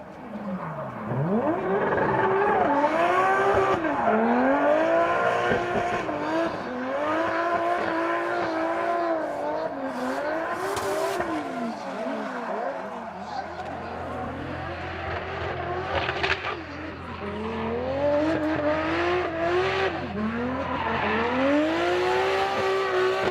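Nissan R33 drift car with an RB25 engine at full throttle and heavy angle during qualifying at Okayama International Circuit, a loud continuous wailing engine rising and falling through revs, with tire squeal and a commentator voice underneath.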